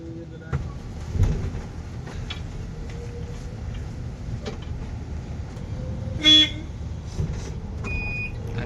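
Interior of a moving MSRTC Shivai electric AC bus on the Baramati to Pune route, a steady low rumble of road and cabin noise throughout, with a brief loud horn-like toot near the end and occasional clicks.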